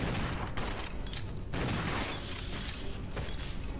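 Shotgun blasts aimed at a giant beetle in Resident Evil 0 HD Remaster, a dense, loud run of gunfire and mechanical game effects filling the whole stretch, with no speech over it.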